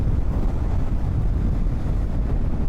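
Strong headwind buffets the microphone on a BMW F 450 GS motorcycle at speed, a dense, continuous low roar with no pauses.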